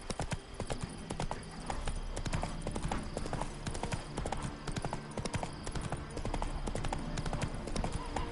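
Roach the horse's hooves clip-clop steadily in The Witcher 3, a continuous rhythmic trot at close range with game ambience underneath and a faint voice at times.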